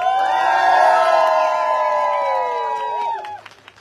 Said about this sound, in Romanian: hai dați, nu aplauze, o chiuitură pentru doamna director Silvia Macra